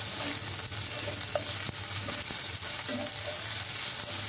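Ginger garlic paste frying in a hot pan for a Bengali dish of taro stolons, dried fish and river prawns: a loud, continuous crackling sizzle with the scrape of stirring, close and steady, with no voices.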